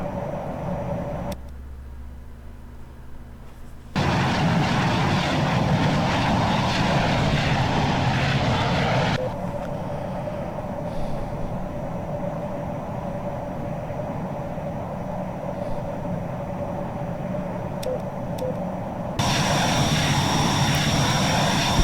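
Propeller aircraft engine drones continuously in a combat flight video game, loud and steady with abrupt shifts in tone and level as the view or throttle changes, no talk.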